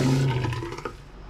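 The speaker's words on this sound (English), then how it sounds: "to empty the toilet, we just press this button" A marine toilet on a sailboat flushes after a button press, giving a loud rushing gurgle of water that starts strong and tapers off within about a second.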